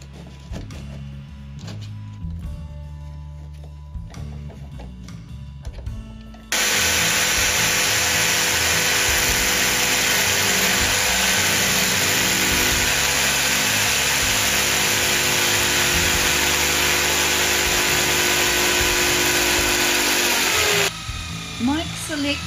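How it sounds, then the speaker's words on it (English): A jigsaw cuts through a piece of wood clamped to a trestle table, running as a loud, sustained buzzing whine for about fourteen seconds. Someone talks over quieter background noise before the saw starts. "he's using the jigsaw. The piece of wood is clamped to a trestle table"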